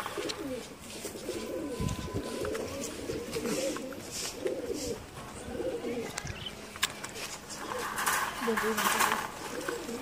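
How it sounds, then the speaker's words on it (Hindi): Pigeons kept in a loft coo in repeated low soft phrases close by, layered over one another, while people talk and a faint chirp or flutter comes through now and then. "ये देखिए सारे कबूतर।"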